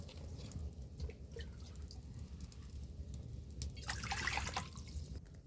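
Water goes into a hot cooking pan on a lit stove, a faint trickling and splashing over a low steady background hum, swelling briefly louder near the end.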